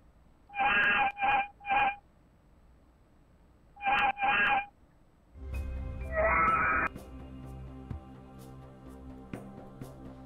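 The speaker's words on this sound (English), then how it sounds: "Cat screaming into camera, hurt death sound." A video game mod's cat character lets out a hurt, screaming death cry in several short bursts, followed by a longer, louder strained wail over a busy game background, with no talk.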